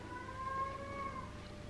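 A pet cat gives one drawn-out, faint meow that wavers slightly in pitch against a quiet indoor background.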